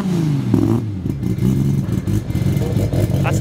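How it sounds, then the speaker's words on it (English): A car engine with a lumpy, uneven idle burbles loudly and close at an autumn car meet in Queensland, its throbbing pulses irregular with slight rises in revs, over background crowd noise. "That's a nice lumpy idle."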